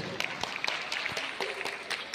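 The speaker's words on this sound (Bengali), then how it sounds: "এই শিল্পীর জন্য একটা হাততালি অবশ্যই হতে হবে।" An audience at a folk culture festival in Dharmanagar, Tripura, claps for a folk performer, a short burst of scattered, fairly close handclaps.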